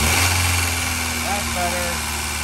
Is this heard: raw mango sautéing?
no